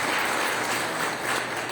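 A church congregation at a Sunday service applauds together, a dense, steady wash of clapping that fills the short moment with no voices over it.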